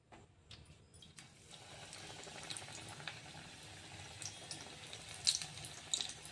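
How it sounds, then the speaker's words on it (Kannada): Gram-flour batter-dipped potato vadas for vada pav drop into hot oil and fry with a steady, bubbling sizzle, close and fairly quiet, with a few sharper pops near the end and no talking. "ಇವಾಗ ಎಣ್ಣೆ ಒಳಗೆ ಬಿಟ್ಕೊಳ್ಳೋಣ."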